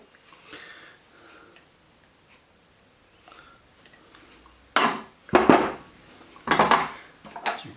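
Mayonnaise is scooped into a big mixing bowl, with soft clinks of a utensil and then several sharp scraping knocks against the bowl, close and intermittent.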